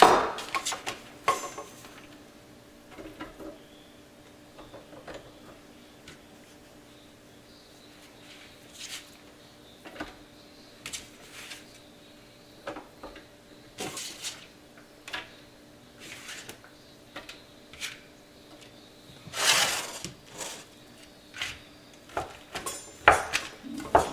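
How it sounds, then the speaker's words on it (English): Coarse chopping of ham with a knife on a cutting board in a home kitchen, a long run of scattered, uneven knife taps and clatters close by, some faint and some sharper, with quiet pauses between bursts. "Now I'm just going to give this kind of a coarse chop because it is going to go in the food processor."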